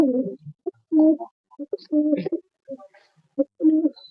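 Soft, rhythmic cooing of Mukho, Giribaz and Madras pigeons nearby, repeated low throaty phrases with brief pauses between them and no talking.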